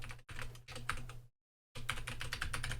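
Quick clattering keystrokes on a computer keyboard come in close bursts, with a short silent pause in the middle before the typing resumes.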